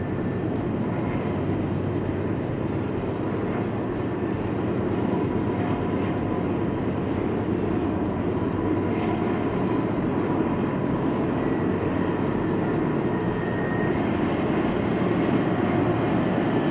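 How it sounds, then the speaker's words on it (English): A freight train led by locomotive 11K runs side by side with an intermodal train, producing a loud, continuous rumble and roar of engines and rolling wagons with no talk. "an intermodal started racing it, leading to a race between 11K with some insane power and an intermodal"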